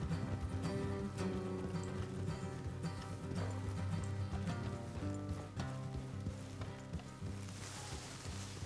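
Horses trot along a road in the Red Dead Redemption 2 video game, hoof clops blended under a steady, dense layer of game music and ambience.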